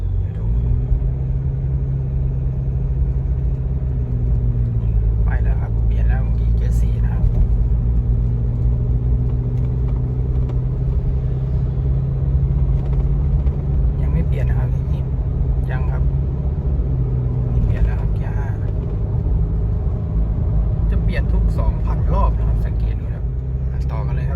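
Engine of a 2021 Isuzu MU-X drones steadily from inside the cabin, a low even hum with a few subtle changes in pitch as the automatic gearbox shifts up near 2,000 rpm around third gear, while someone talks over it.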